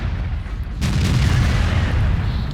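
A T25/2 tank destroyer gun firing in World of Tanks, one loud booming shot with a sharp onset followed by a rumbling, sustained low tail that fades slowly.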